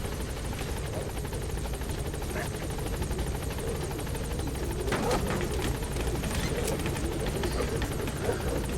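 Helicopter in Metal Gear Solid V: The Phantom Pain, a steady broadband rotor and engine roar running continuously throughout, with game sounds and voices mixed in over it.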